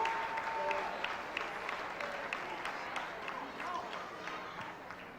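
A crowd applauds a martial arts forms demonstration at the 1999 US Open, steady clapping from many hands at a moderate distance, with a voice talking over it.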